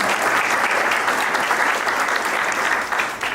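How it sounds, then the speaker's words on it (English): An audience at a Los Angeles City Council president's civil rights speech applauds loudly and steadily, dense clapping filling the whole stretch without a break. "Let's give Kaiser a round of applause."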